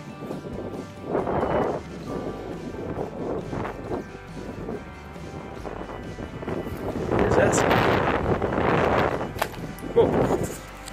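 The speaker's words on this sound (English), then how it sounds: "It's windy, I don't even know if you can hear me." Wind gusts buffet the microphone outdoors during a shed antler hunt, rising to a stronger rush in the later seconds, with someone talking through it.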